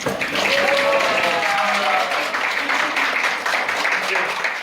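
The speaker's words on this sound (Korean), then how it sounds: "뒤에 계신 분들 박수 많이 쳐주세요" Applause breaks out from a crowd at an opening tape-cutting ceremony for an environmental art festival at a cultural arts center, a sustained patter of many hands clapping, with voices mixed in over it.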